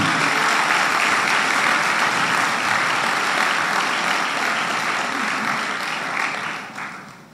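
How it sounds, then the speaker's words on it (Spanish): Church congregation applauding, a loud, dense and sustained wash of clapping that holds steady and then tapers off near the end. "Denle un aplauso al Señor"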